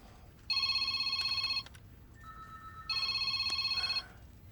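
A phone rings in two long electronic trills with a short gap between them, loud and close with no talk over it.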